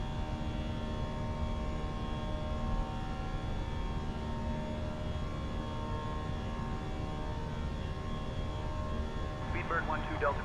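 British Airways A320 airliner in a flight simulator climbing after takeoff, a steady loud engine drone with layered tonal hum filling the whole stretch, while a voice speaks over it.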